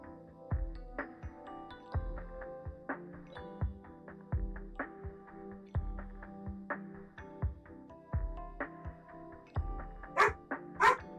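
A pet dog barks over and over in a home, with regular, moderately distant barks under steady video game music and a couple of sharper yips at the end.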